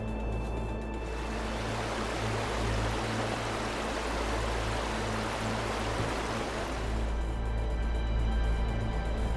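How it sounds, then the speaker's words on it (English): A steady, dense roar of rushing water from a waterfall deep in a gorge at the base of Mount Kariba, Hokkaido, Japan, fills the scene, broad and continuous, with a low hum underneath that never lets up. "Deep in the gorge, at the base of Mount Kariba, a deep roaring sound can be heard as I venture in."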